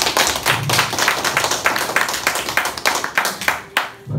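An audience claps at a local event marking a strategic alliance between a university and a rural health clinic, with brisk, fairly close applause that holds for several seconds before it thins out.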